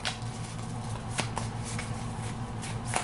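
Playing cards shuffled during a Pathfinder Adventure card game session, a steady riffling rustle with a few sharper snaps, close and alone without talk.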